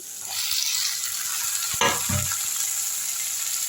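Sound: pumpkin pieces added to sautéing tomatoes in a pan

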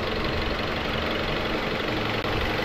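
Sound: Ford Escape 2.3 engine idling

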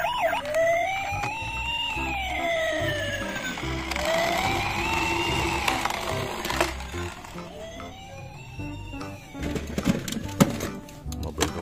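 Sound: toy emergency vehicle siren

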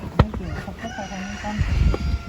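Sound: chickens clucking

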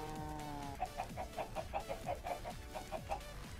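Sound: chickens clucking on a chicken egg farm in Minecraft, a video game

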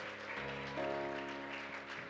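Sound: congregation clapping hands

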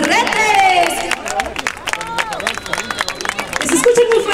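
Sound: crowd applauding the municipal president

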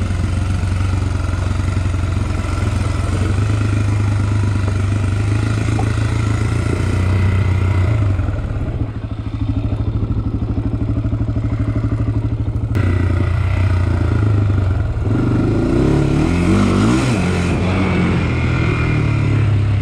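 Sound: motorbike engine braking downhill in first gear

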